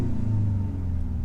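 Genesis G70 2.0T with a 6-speed manual in sport mode, its exhaust giving a brief deep rumbling rev heard from inside the cabin, steady and fairly loud with no talking.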